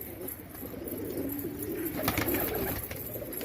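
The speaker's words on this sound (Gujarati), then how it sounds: "કબૂતર છૂટા છવાય થઈ ગયા" Pigeons coo softly in low, rolling murmurs, somewhat distant, over a constant background hum.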